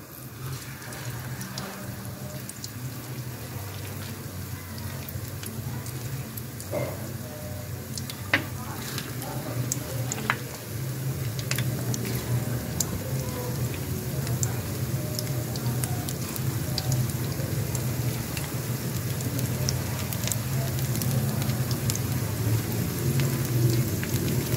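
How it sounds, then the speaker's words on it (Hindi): Onion and spinach pakoras fry in a hot pan of oil over a medium flame, giving a steady crackling sizzle up close with sharp pops throughout. "अब मैं इसमें डालना शुरू कर रही हूँ पकोड़े।"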